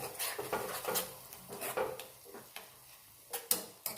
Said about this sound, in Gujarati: હવે સતત ચલાવતું રહેવાનું એટલે આપણું દહીં ફાટી ના જાય